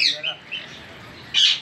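A wild male ringneck parrot gives a few short, shrill squawks: two quick calls, then a louder one after a brief pause. The calls are heard outdoors at moderate distance.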